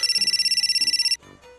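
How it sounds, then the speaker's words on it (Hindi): A mobile phone rings loud and close, a rapid pulsing electronic trill that repeats steadily for about a second, then cuts off into quieter tones. "ये इतनी देर से तुम्हारा फोन बज रहा है, सुन क्यों नहीं रहे?"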